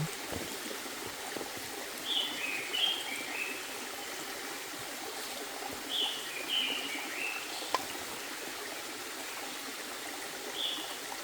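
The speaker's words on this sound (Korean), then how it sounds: "물소리도 시원하지만 새소리도 시원해요." Steady mountain stream flowing through a rocky valley in Daeyasan, with birds calling intermittently above the water in several short bursts spread across the clip.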